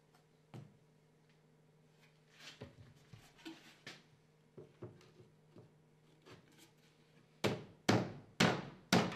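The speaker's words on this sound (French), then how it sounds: "Tapez où il faut avec un marteau sur un petit morceau de bois restant." A hammer taps on a leftover scrap of wood to seat wooden panels onto a base board, with scattered soft knocks and thuds at first, then four louder, sharper blows close at the end.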